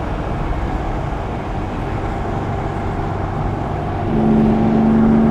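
A Porsche 911 or 356 pulls hard in fourth gear, its engine note a steady close drone under road noise that swells louder and brighter near the end as revs climb.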